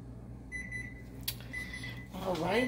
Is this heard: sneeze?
no